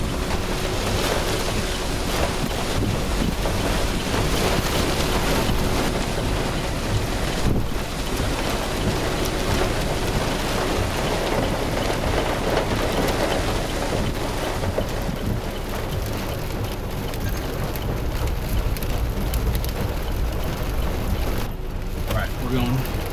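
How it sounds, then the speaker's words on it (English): Storm-chase rain and gusty rear flank downdraft winds near a tornado in Kansas, a steady loud roaring wash of wind and rain that holds constant throughout with no clear break. "we're just getting hit with the rear flank downdraft winds coming in behind us"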